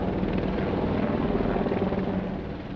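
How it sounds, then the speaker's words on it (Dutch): Five Marine Corps helicopters passing overhead during a rehearsal for a royal parade, a thick continuous rotor chop and engine rumble filling the air, loud and steady before easing off slightly at the end. "Behalve dan de 5 helikopters die het Korps Mariniers inzet voor de generale repetitie."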